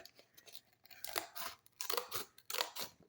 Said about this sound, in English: I just take my deco scissors